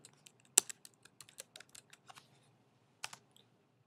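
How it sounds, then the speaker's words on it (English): Keys tap on a computer keyboard while a username and password are entered, a quick series of close, light clicks with one sharper stroke, then a pause and a final short burst, with no voices. "Here you can type your username and password."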